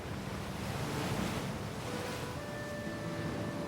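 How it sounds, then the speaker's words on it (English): Ocean waves break and wash continuously against a granite coastline on the Maine shore, a broad rushing roar with wind noise and no voices. "today, the ocean waves continue where the glaciers left off"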